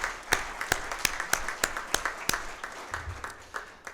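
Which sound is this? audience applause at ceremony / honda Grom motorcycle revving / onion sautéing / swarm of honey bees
audience applause at ceremony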